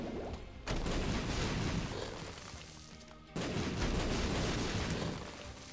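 Explosions from boss shots in The Binding of Isaac Afterbirth+, two sudden loud blasts, each followed by a long, crackling, rumbling decay that slowly fades before the next one.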